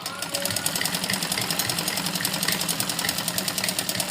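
A sewing machine stitching a heavy-size suit runs in a fast, even rapid-fire rattle, close and continuous for several seconds without talk.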